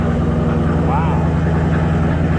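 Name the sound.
Indian Challenger motorcycle engine with new Indian mufflers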